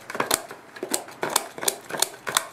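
Scissors snipping faux sprinkles to size, a series of about six crisp, evenly spaced cuts close up, each a sharp click with a brief rustle between.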